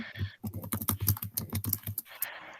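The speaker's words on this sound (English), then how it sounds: "I'm gonna type it up real quick" Rapid clicking of keys on a computer keyboard, close and fairly quiet, with a faint hum before and after the burst of typing.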